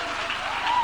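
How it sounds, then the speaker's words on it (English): A tech-industry panel audience breaks into brief, dense clapping that swells slightly near the end, with no voices over it. "Clap now."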